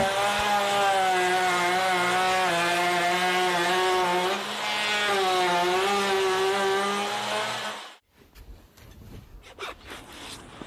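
Router cutting a wooden split pattern for a sand-cast hand wheel, a loud, steady high-pitched whine with a strong harmonic tone that wavers slightly as the bit moves, then cuts off abruptly, leaving faint handling noises.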